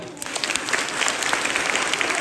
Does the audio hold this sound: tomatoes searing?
no